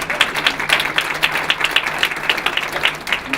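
An audience at the 2015 Dr. Martin Luther King, Jr. Unity Breakfast applauds for John: close, brisk, fairly loud clapping from many hands, with a steady rhythm throughout.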